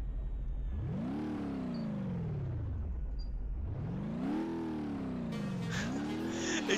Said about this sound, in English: Listen to this engine sound though